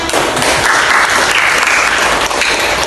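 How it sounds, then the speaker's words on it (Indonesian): A class of students gives steady, dense applause for about three seconds, loud and close, with no talking over it. "kasih deh beri aplaus"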